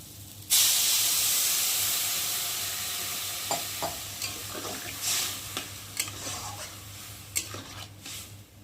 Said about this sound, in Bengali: আর একটু ভালো করে নেড়ে, আর এবার আমি জল দিয়ে দেবো